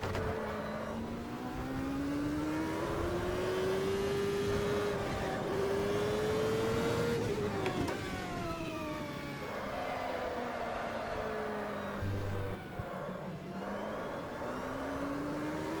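A race car engine in the racing game Automobilista roars steadily, pitch rising and falling as it accelerates and shifts gears, with a continuous whining drone throughout.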